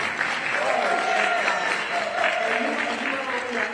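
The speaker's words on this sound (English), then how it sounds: "D.C. Marshall, a round of applause." Steady crowd applause fills the room at an Essence Fest 2022 civil rights roundtable, an even mid-level wash of clapping with faint voices murmuring underneath for the whole stretch.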